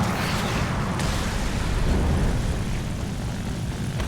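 Enemy aircraft engine in the War Thunder tank battle, a broad steady propeller drone that holds loud and constant throughout, swelling slightly near the middle with no talk over it.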